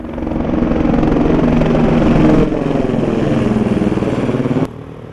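A motorcycle engine runs close and loud with a steady, rough drone, its pitch holding through the stretch before dropping off abruptly near the end to a lower idle.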